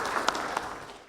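An audience claps for honoured FinTech companies at a banking summit, with a brief burst of applause that thins and fades toward the end.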